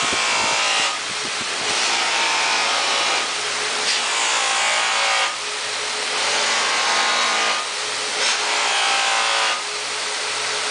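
A spinning buffing wheel polishes stainless steel trim with a steady, loud whirring hiss, swelling and easing in repeated passes of a couple of seconds each as the trim is worked against it.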